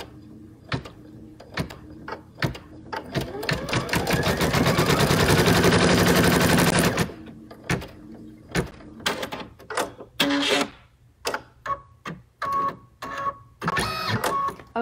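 An embroidery machine stitches fabric, with a dense whirring, rattling run of needle strikes for a few seconds, set among sharp clicks and mechanical knocks before and after.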